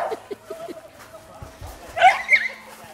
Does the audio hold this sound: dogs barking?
yes